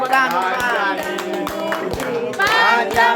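People clap hands in a steady beat, about two claps per second, during a sung birthday song at a church parish community gathering; the singing voices carry the tune over the sharp, regular claps.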